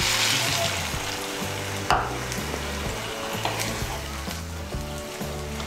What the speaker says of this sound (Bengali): আমি এর মধ্যে 1 কাপ গরম জল দিচ্ছি।